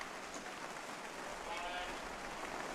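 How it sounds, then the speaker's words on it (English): Rain falls on the roof overhang at a baseball stadium as a steady, faint hiss that swells a little toward the end, with talk in the background. "the rain begins to fall even harder. You can probably hear it on the roof,"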